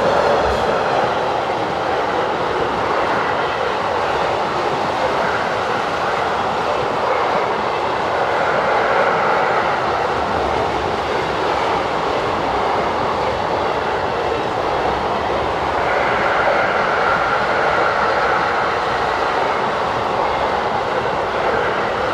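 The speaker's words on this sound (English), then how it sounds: "we see 186173 heading south with a car train bound for Dijon" Locomotive 186173 rolls past hauling a southbound car transporter train bound for Dijon, a sustained, loud rumble of wheels and wagons with a steady broadband roar that swells slightly midway and stays close throughout.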